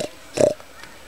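A pig behind an electric fence on a farm gives a short, loud grunt, with softer snorts before and after.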